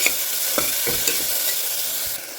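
Tomatoes, green chilies and onions sauté in a pan, a close, steady sizzle with a few soft scrapes and knocks of a spoon stirring, fading slightly at the end, with no voices.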